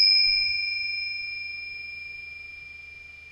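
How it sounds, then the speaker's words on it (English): A Tibetan chime is struck once, and its bright, sustained metallic ring slowly fades away alone in a quiet room. "So I use the Tibetan chime."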